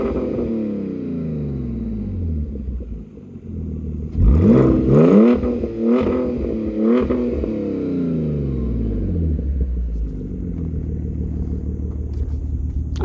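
Audi A4 with its exhaust cut off starts and revs, a steady low engine drone broken by a burst of loud, climbing revs in the middle before settling back to a rough idle.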